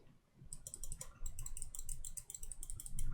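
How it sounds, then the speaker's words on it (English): A Pulsar X2 Mini computer mouse clicking in a quick, even run of sharp, light clicks, close and fairly quiet. "maybe because of the shorter button, it's a bit more clicky"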